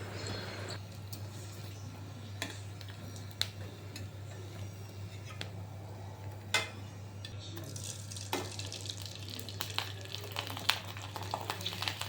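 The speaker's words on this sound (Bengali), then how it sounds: "তাই এখানে একটু গরম গরম পাঁপড়ও ভেজে নিলাম" Papad (poppadoms) frying in a pan, a faint steady sizzle with scattered soft crackles and ticks that grow busier toward the end, heard alone over a low background hum.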